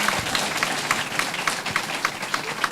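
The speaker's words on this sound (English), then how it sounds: "A round of applause for yourself." An audience breaks into a round of applause at a career event, steady dense clapping from a crowd sustained throughout, moderately loud with no speech over it.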